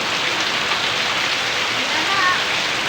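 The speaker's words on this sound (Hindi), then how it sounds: "ये बारिश की वजह से कुछ नहीं हो पा रहा है।" Heavy monsoon rain pours down during an outdoor Haryali Teej festival gathering where malpua is being cooked, a loud continuous wash of water with a faint murmur of voices beneath it.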